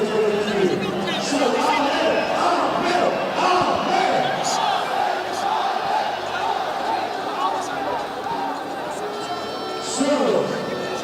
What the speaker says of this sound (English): Crowd cheering and satisfied